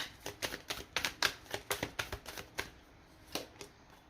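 Tarot cards handled and laid down on a table, a quick series of light crisp taps and snaps, close and fairly faint, clustered in a burst then a few spaced final taps.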